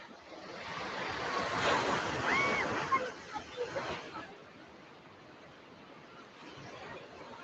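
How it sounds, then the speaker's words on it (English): Ocean waves break on the shore at Waikiki, a broad surging roar that swells, peaks and fades back to a gentle wash, with faint crowd chatter in the background. "And here's a good set of waves here."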